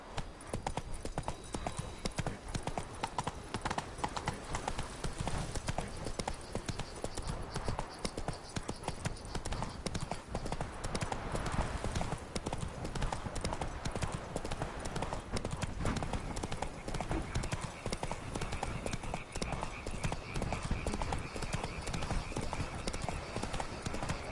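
A horse gallops in The Witcher 3, its hoofbeats a dense, continuous rapid clatter held at an even moderate level throughout, with a faint voice briefly audible now and then.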